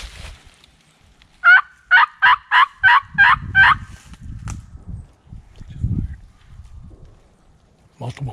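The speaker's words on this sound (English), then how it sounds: "Double gobble." Wild turkeys gobble in the woods on public land during a hunt, a rapid burst of about six loud warbling notes. Faint rustling and movement follow, with people nearby.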